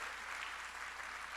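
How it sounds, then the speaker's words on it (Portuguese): A church congregation clapping together, a dense, steady wash of applause held at an even level throughout, somewhat distant and soft. "aplauda o Senhor"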